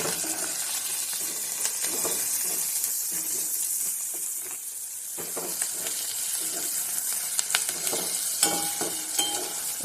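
Onions fry in a pan with salt and red chili powder, keeping up a steady close sizzle and hiss, with scattered stirring clicks and light scrapes throughout and no voices.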